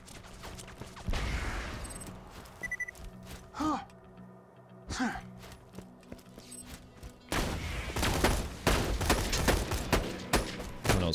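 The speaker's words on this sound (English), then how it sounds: "I know someone's shooting me in the side" Rapid bursts of gunfire from the shooter game Borderlands 2, clustered near the start and dense from the middle to the end, loud and close with faint breathy sighs between volleys.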